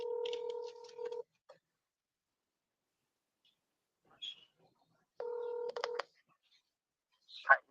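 Telephone ring tone heard over speakerphone: two bursts of the electronic ringback tone separated by a long quiet gap, faint and thin, with brief soft sounds between them.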